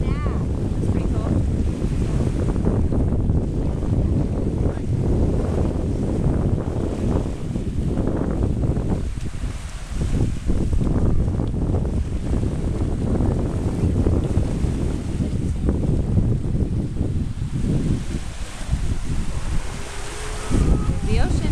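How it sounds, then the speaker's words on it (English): Atlantic Ocean surf rolls onto the shore under strong gusting wind, a loud, continuous rumble of breaking waves mixed with heavy wind buffeting against the microphone, close and steady throughout. "There's the ocean."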